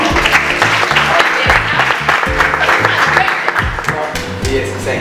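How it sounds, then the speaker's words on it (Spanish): Audience applause at the Startup Week Caracas 2019 presentation: loud, dense clapping from a crowd that runs throughout, with a voice speaking over it. "Por favor, un aplauso para Alejandro León."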